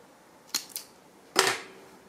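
Scissors snip thread in three short, crisp cuts: two quick clicks close together, then a slightly longer, louder snip, close by in a quiet room.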